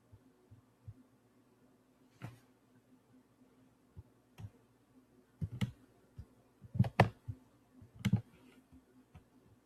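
Scattered computer keyboard clicks as shortcuts are pressed in a quiet room, isolated taps at first, then a few louder clustered bursts of keystrokes toward the end.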